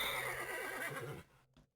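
A horse in the Sega Saturn game Airs Adventure lets out a loud, wavering whinny that fades out, alone with no talk.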